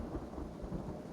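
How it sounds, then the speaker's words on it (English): Acid rain thunderstorm in the Kenshi video game: a dense, continuous rumble of thunder and heavy rain, low and steady with no voices. "Get out of here before the acid rain causes too much damage."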